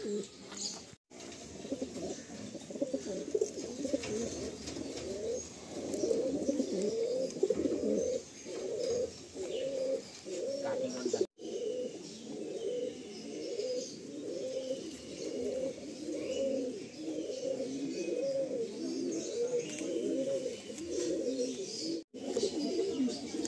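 Steady, overlapping cooing from several pigeons in a loft, rolling and continuous throughout, heard at a moderate distance with a faint background hiss.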